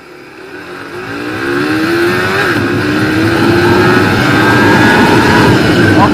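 A Suzuki GSX-S 150 motorcycle accelerates hard in second gear, its engine note climbing steadily toward 13,000 RPM in one loud, continuous rising whine with no pauses.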